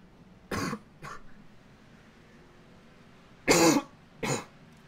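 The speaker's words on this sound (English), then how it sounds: "I do apologize for the cough once more" Four separate coughs in two pairs, the second pair louder, close by with quiet pauses between them.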